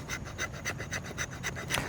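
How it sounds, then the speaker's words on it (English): A JeoTec No 39 bushcraft knife scraping wood in steady, rhythmic rasping strokes, about seven evenly spaced scrapes, quiet and close with no talking. "Now, let's see how well it scrapes some wood."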